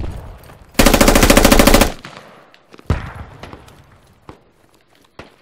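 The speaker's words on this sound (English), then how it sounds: "Hey, what were you shooting at?" A long, rapid automatic burst of gunfire in the Squad military shooter, loud and close, followed by a few scattered single shots and faint footsteps, with no talk.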